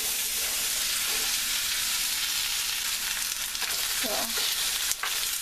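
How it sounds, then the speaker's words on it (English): Vegetables for a vegan black bean, turnip and tofu dish with bok choy sautéing in a hot pan, a loud continuous sizzle with a few stirring scrapes near the end. A voice says a single short word. "I'm gonna let that saute."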